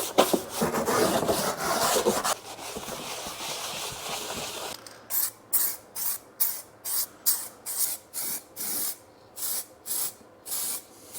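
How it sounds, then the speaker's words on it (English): Continuous hissing of an aerosol can of bumper spray paint on a BMW E46 330ci underside, then a series of short, rhythmic spray bursts with brief gaps between them, close and fairly loud. "This is the paint I'm using, bumper spray"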